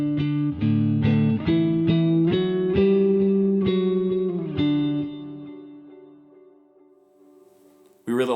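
Electric guitar chords ring out in a steady rhythm, drenched in reverb with echoing eighth-note repeats, then fade to a sustained tail before a brief new strum.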